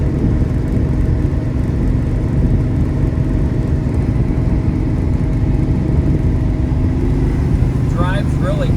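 A 1966 Ford Fairlane GTA 390 cruising at highway speed, with a steady, loud broadband engine and road roar from inside the car, unbroken throughout, and a faint voice near the end.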